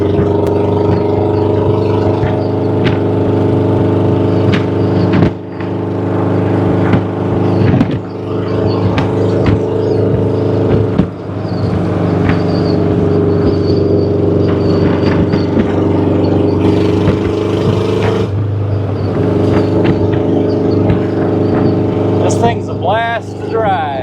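Engine of a dune buggy with a Berry T body on a 1976 VW frame, running with a misfire and low power, drones steadily and loudly while driving, with shifts in pitch and someone talking over it.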